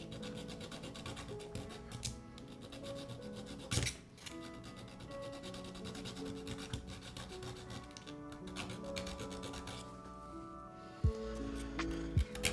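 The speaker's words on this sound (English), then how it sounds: "So we're doing some filing down of some stuff here." A hand file rasps back and forth against a keyboard plate in steady, close scraping strokes that continue without a break. A few clicks and knocks are heard along the way.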